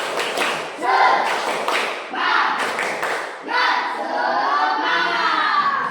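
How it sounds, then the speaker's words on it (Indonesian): A class of children in a school classroom does a rhythmic spirit clap (tepuk semangat), patterned claps and thumps mixed with loud group chanting and shouting voices. "Tepuk semangat."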